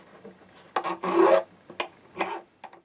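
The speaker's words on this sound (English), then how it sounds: "We dress our fret ends." Short rasping strokes of a file work over guitar fret ends, a handful of separate scrapes close up with quiet gaps between them.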